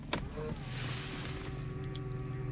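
Electric folding mirrors on a Jaguar S-Type 3.0 V6 give a steady, close motor whir with a faint click at the start, running for a couple of seconds.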